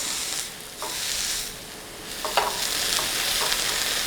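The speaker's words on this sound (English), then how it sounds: "I can just sear those edges." Steak edges searing in a hot pan, a steady broadband sizzle that swells and eases, with a few brief clinks or scrapes partway through, close and fairly loud, no talking.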